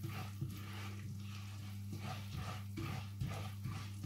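Onions frying in oil in a pan while being stirred for a Turkish-style rice dish, a steady close sizzle with a low tonal hum underneath and soft periodic scraping from the stirring.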